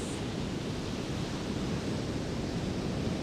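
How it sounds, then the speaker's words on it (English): Ocean waves at a beach form a steady, even roar of surf, a continuous distant wash with no distinct breaks, heard alone without voices. "listening to the ocean waves"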